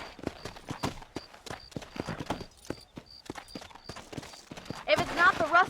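In Red Dead Redemption, horses' hooves clop in a steady, close walking rhythm on packed ground, with a faint ringing tone and voices talking over them near the end.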